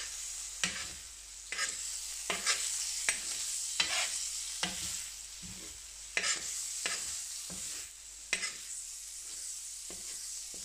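Finnish bacon with a little sugar sizzles steadily on a hot carbon steel griddle on a stovetop, a constant bright hiss broken by about a dozen sharp pops and spatters spread through the clip, with no voices.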